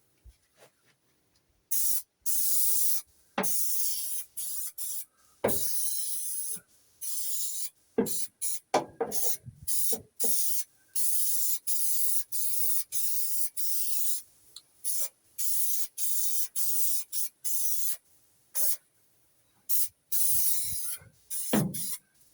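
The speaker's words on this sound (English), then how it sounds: "imagine that you're using a spray can of paint." A can of spray adhesive sprays in repeated short and long hissing bursts, close up, separated by brief pauses and small handling noises, while insulating a VW T5 van.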